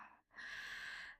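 A single close breath: a short intake of air, a brief pause, then a longer, steady airy exhale, soft and unaccompanied.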